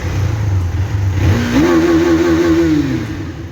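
A car engine revs up from a low idle hum to a high, sustained whine, then eases slightly before settling, close and loud with no talk.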